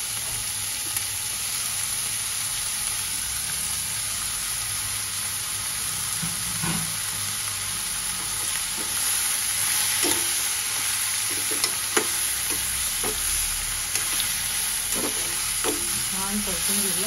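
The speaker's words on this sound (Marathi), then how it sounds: "आता आपण कोळंबी घालूया." Marinated prawns are tossed with vegetables in a hot pan for a green prawn pulao, giving a continuous close sizzle broken by repeated scraping strokes of a spatula, with no talking.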